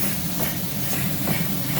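Steam hisses from the open drain cocks of a full-size 1870s steam locomotive replica during warm-up, a steady broad rushing hiss with faint pulsing surges, close and continuous without talk.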